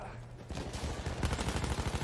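SMG 0818 automatic fire in Battlefield 1, a fast rattling burst that grows louder after the first half second and continues steadily, with a voice talking faintly beneath.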